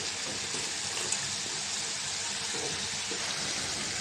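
Rui fish sizzles in a hot pan with potatoes being added: a continuous, even hiss of frying oil, close and fairly quiet, with no voices.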